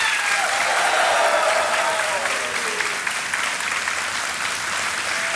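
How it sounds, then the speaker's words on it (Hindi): A TV quiz-show studio audience on KBC bursts into sustained, loud applause and cheering. The steady wash of clapping fills the whole stretch without a break. "तालियां और शोर मच जाना चाहिए उनके लिए।"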